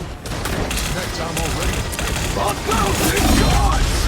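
Gunfire in a Marvel Rivals match, a loud continuous barrage of rapid shots and impacts with game effects layered on top, over about four seconds.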